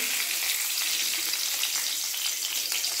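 Bay leaf and dried red chilli sizzle in hot oil in a wok, a bright, even crackling hiss that stays close and steady throughout.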